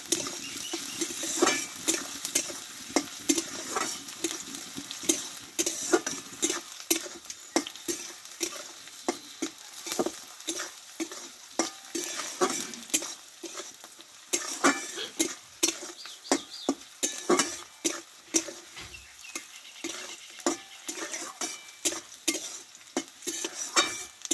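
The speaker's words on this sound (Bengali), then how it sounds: "কয়েক পিচ আদা কয়েকটা রসুন কোয়া একটু ভালোভাবে এগুলো একটু ভেজে নেবো আমি" Ginger pieces and garlic cloves fry in hot oil, a continuous close sizzle broken by frequent scraping and clinking of a stirring spoon against the pan, with no talking.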